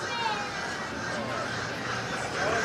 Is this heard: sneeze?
no